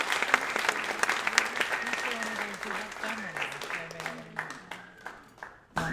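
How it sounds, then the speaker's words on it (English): A talent show audience, Frewsburg's Got Talent 2024, bursts into loud, sustained applause with dense clapping and a few cheers, gradually thinning toward the end as an announcer's voice starts over the clapping. "Can we get a big round of applause?"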